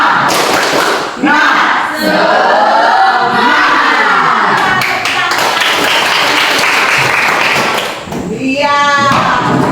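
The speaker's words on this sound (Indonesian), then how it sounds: "Kita akan yel-yel tepuk semangat dulu supaya mengikuti pelajaran semuanya semangat." A classroom of children performs the 'tepuk semangat' clapping chant, loud group shouting and chanting with rhythmic claps and thuds, ending in a burst of quick repeated claps.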